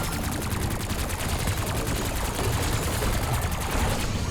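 Rapid automatic fire from the Stryder 22 in Black Ops 6 Zombies, a dense, unbroken fusillade of shots that stays loud and constant throughout.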